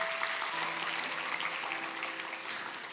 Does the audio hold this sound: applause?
yes